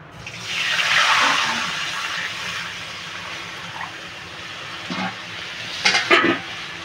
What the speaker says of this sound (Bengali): বন্ধুরা আমি এবার কড়াইটাতে পরিমাণ মতো জল দিয়ে দেবো।